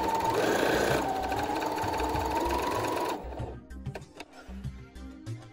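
A sewing machine runs a straight stitch along a fabric edge with the presser foot down, a fast steady mechanical whir for about three seconds before stopping, followed by a few quiet clicks and handling sounds.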